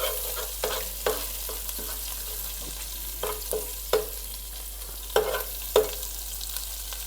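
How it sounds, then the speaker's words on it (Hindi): Garlic and ginger fry and get stirred in a pan for an Indian-style chicken macaroni pasta, with a steady low sizzle broken by a series of sharp spoon scrapes and clinks, close and fairly quiet, no voices. "बस हम हल्का सा लहसुन अदरक को जो है वो इसका कच्चापन जो है ख़त्म करेंगे और इसको भूनेंगे।"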